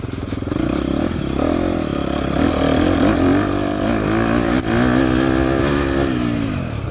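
A 2024 KTM 250 XCF dirt bike engine revs and accelerates hard on an offroad trail in Texas, a loud continuous buzzing roar with rising pitch and a brief dip midway.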